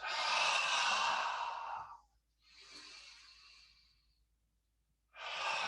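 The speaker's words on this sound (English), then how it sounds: "And then swing the arms, breathing out." Slow deliberate exhalations during a qigong arm swing, a long soft breathy sigh followed by a quieter second breath and the start of another, close and alone with no talk.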